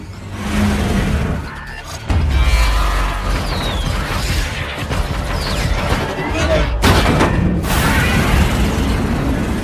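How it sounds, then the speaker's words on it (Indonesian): Heavy booming naval cannon blasts and explosions from the film Battleship erupt amid a dense, rumbling action mix, with voices faintly underneath. "kapal alien menyerang balik dengan tembakan meriam"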